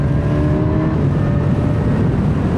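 A 2023 Kawasaki Ninja Z1000 SX motorcycle engine roars loudly and steadily, building slightly as it accelerates, with no voices over it.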